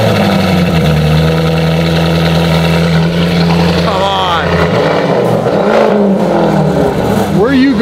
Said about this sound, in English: This is a twin turbo V8 Lamborghini and it will not disappoint.